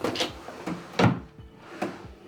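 A desk drawer in a home office space is opened and closed, giving three separate woody slides and thumps over a couple of seconds, close and moderately loud, with no talking.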